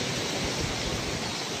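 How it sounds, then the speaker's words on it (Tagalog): Strong waves driven by Typhoon Uwan near a farm roar as a steady broadband wash, loud and continuous with gusty wind folded in, and no voices, ending in a sudden sharp burst. "Lakas po ng alon."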